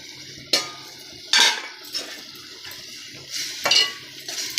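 Tempering (oggarane) for palya in a pan: several close sharp clinks and scrapes of a spoon against the metal pan over a low sizzle, spaced irregularly, with no talk.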